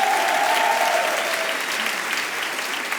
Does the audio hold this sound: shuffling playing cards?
no